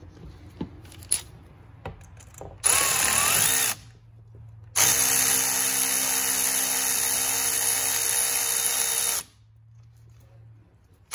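A power tool whirs loudly in two steady bursts, one short and one longer, while tightening a clamp on a 3.5-inch passenger-side intercooler pipe of a 3500 L5P Duramax truck, with quieter clicks and handling noises between.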